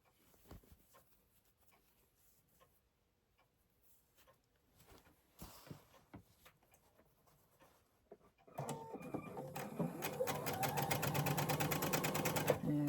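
Sewing machine stitching across the lining opening of a fabric bag, a steady rapid mechanical whir that starts after several seconds of quiet handling and fabric rustle and runs loud and continuous to the end.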